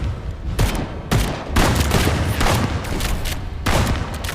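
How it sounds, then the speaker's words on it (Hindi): A fusillade of rifle gunfire in several loud, close bursts, with shots overlapping into a dense, chaotic volley across a few seconds. "बाकी सैनिक और भी ज्यादा हड़बड़ा गए और उन्होंने बिना निशाना लगाए अंधाधुंध गोलियां"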